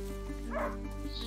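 A hunting dog barks in the video game A Plague Tale: Innocence, a single faint yelp rising over a steady humming game soundtrack, with no talking.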